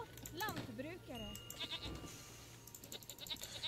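A goat bleats a couple of times in Age of Empires III, short wavering cries mixed with game sounds and clicks, with someone talking over parts of it.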